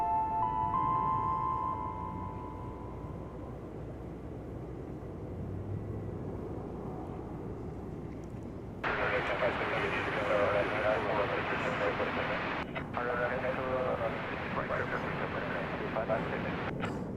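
A Korean Air Boeing 747-400 cargo jet from 2006 rumbles at DFW Airport, its engine roar swelling sharply louder halfway through while someone talks over it throughout.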